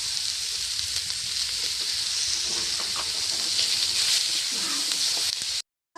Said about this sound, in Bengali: পেঁয়াজটা দিয়ে একটু লালচে বাদামি করে ভেজে নিতে হবে।